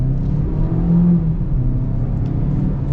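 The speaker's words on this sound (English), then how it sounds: "Now the engine, right, it's a 4-cylinder, so it's not going to have a crazy beefy top end." The 2026 Chevy Equinox Midnight's 4-cylinder engine accelerates with a steady low hum and rising whir, heard from inside the car, close and continuous with no talk.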